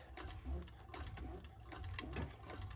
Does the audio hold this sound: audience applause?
no